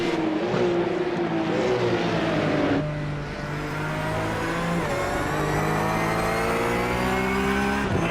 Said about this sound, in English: he locked up the brakes and slid